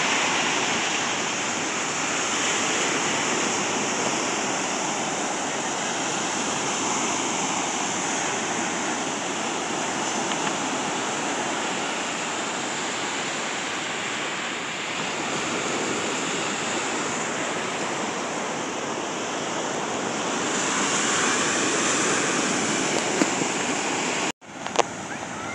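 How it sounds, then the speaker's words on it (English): Ocean surf rolling onto a Florida beach, a steady broad wash of breaking waves with some wind, fairly soft and continuous, ending in a brief handling bump. "this will be the last view of the ocean"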